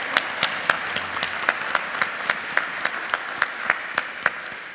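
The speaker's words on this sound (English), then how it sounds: "A round of applause, please." Audience at a trade conference session applauds panelists, a steady, moderately distant wash of clapping from a sizeable crowd with a few sharper individual claps standing out, no talking.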